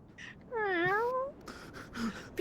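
Pet cat meowing once, a clear, close drawn-out call with a rising then falling tone, followed by softer rustling and a short squeaky sound.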